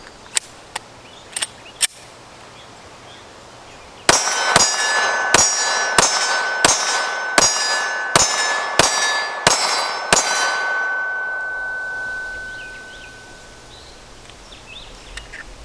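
A Glock 43X pistol fired through a magazine outdoors: a few sharp shots, then a quick string of about eight loud, evenly spaced reports, each followed by ringing echo, with the tail fading out.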